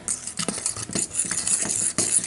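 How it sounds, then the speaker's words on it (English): Chef Boyardee pizza kit dough being stirred with water in a bowl, giving close, irregular scraping and sticky patting strokes at a steady working pace, with no voices. "After you add the water, you mix it in,"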